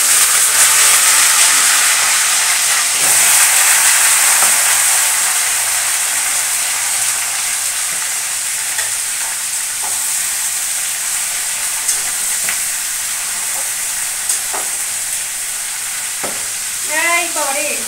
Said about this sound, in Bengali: এনে দিয়ে দিচ্ছি পুঁই শাকগুলো।